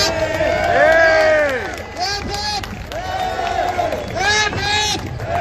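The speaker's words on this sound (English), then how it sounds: "Give us all yourselves a cheer." Protest crowd in Dublin city centre cheering and shouting in loose bursts, with overlapping voices and whoops swelling and fading across the clip, fairly close and loud.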